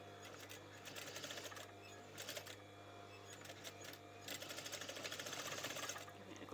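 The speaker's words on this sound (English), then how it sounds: "I'm going to get that overlocking in again and stitch that in place." An overlocker sewing machine stitches fabric for a cushion pillow slip, giving a faint, fast mechanical chatter in short runs that grows busier toward the end, with a steady low hum underneath.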